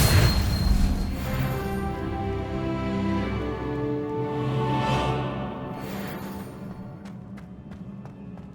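A Confringo spell bursts in Hogwarts Legacy, a heavy booming blast up front that rolls into a rumbling, decaying tail with faint crackles and a swelling whoosh.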